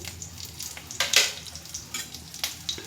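Dried red chillies and whole spices dropped into hot mustard oil, crackling and sizzling steadily with a sharp hissing burst near the start and a few smaller spits after.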